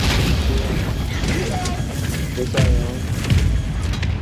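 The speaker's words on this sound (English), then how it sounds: "Mortar strike inbound now." Mortar rounds land in a video game as a continuous rumble of dull booms and thuds with clattering debris. Game voice lines and short spoken replies are heard over the bombardment.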